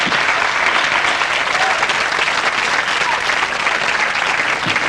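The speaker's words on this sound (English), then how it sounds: "Worth a round of applause," Studio audience applauding at a comedy game show, a steady, dense wash of clapping that holds evenly from start to finish with no voices above it.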